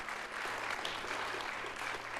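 Conference audience applauding at a closing session, continuous clapping from many hands heard faintly at a distance, steady throughout.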